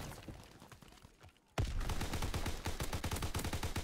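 In Call of Duty: WWII, after a quieter stretch, a sudden burst of rapid automatic gunfire erupts and keeps going in dense, fast volleys, loud and close.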